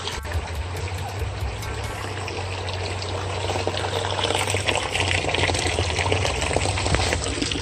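Water pours steadily into a goldfish tank, a continuous close splashing trickle that grows slightly louder over several seconds, with a low hum underneath.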